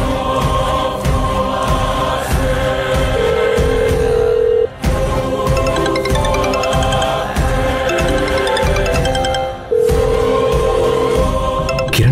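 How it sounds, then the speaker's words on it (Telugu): An incoming call sets off a telephone ringtone in a TV drama scene, a loud repeating melodic ring that cycles several times with short breaks and no talk over it. "ఫోన్ చేస్తున్నారు?"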